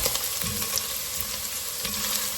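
Celery and onions sauté in a pot for a sweet potato soup, a continuous close sizzle with a few soft stirring knocks.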